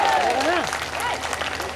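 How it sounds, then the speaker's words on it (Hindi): Audience at a Hindu satsang sermon breaks into sustained, loud applause, a dense wash of clapping throughout, with raised voices calling out over it. "एक बार जोरदार तालियां तो बजा दो"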